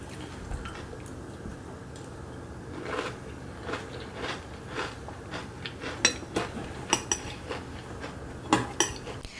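A spoon clinks and scrapes against a bowl while cereal with milk is eaten, with soft repeated taps and crunches growing more frequent and a little louder toward the end, close and alone without talk.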